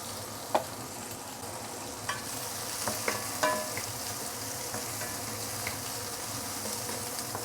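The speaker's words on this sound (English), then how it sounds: "we're going to fry the prawn for approximately between about 2 minutes" Salted prawns frying in a pan for Thai fried rice give a steady, close hiss of sizzling oil, with a few sharp ticks and pops scattered throughout.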